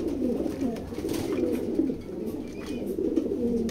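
A pigeon in a loft gives repeated low, throaty coos in a steady rolling rhythm, close and moderately loud, with soft background rustle.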